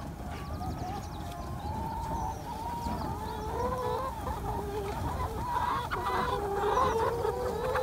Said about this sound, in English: Getting his hens out onto fresh grass.